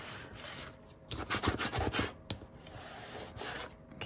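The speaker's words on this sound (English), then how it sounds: "burnish it down" A tool rubs and burnishes a fold on a recycled paper book cover, making close, soft scraping strokes in quick uneven bursts, with quieter stretches between them.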